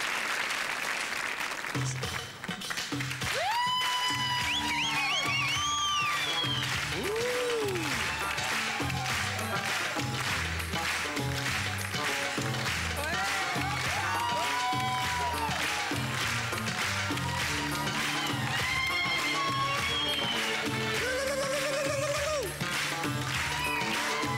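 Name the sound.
audience applause for a contestant on a game show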